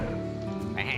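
A sheep bleats from a polymorph spell in the card game Hearthstone, one short wavering bleat at close range, loud against a steady background bed of game sound.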